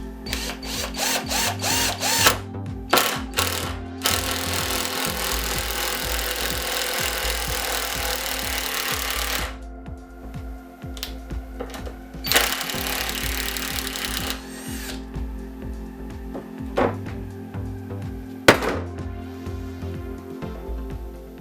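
Rebuilt impact driver sinking screws into wood, repeated bursts of whirring motor and rapid hammering rattles, some short and some several seconds long, separated by quiet pauses and faint handling noises.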